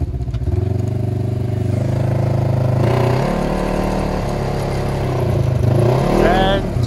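A snowmobile engine revs loudly and steadily as the rider gives it gas on a first ride over rutted snow, the pitch climbing near the end, with voices calling out over it.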